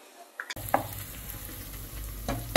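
Onions frying in hot oil crackle and sizzle up close, broken by a few sharp stirring clinks and scrapes against the pan.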